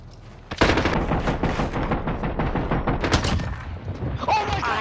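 Video-game gunfire around a sniper rifle wallbang trick shot: after a quiet beat, a dense run of rapid, loud shots rattles on for several seconds before easing off at the end.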